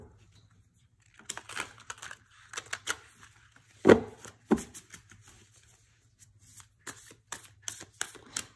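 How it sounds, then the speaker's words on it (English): Stiff tarot cards riffle-shuffled in several quick bursts, crisp fluttering snaps with pauses between, close up and quiet otherwise. "it feels more sturdy when you do this kind of shuffle with the cards"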